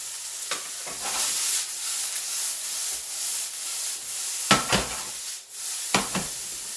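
Garlic and shrimp sautéing in a hot pan with a steady, bright sizzle close by, broken by a few louder stirring scrapes and spatters.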